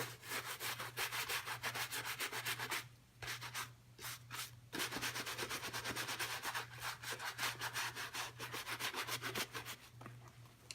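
A sneaker is scrubbed clean with a brush in close, continuous back-and-forth rubbing strokes, broken by two short pauses, over a steady low hum.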